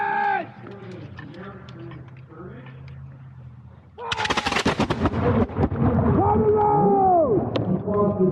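At a Revolutionary War reenactment, people shout and talk, then a sudden loud musket and artillery blast erupts, followed by more voices.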